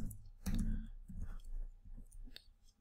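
Computer mouse clicking during an online registration form, a few sharp short clicks with some background rustle and no talk.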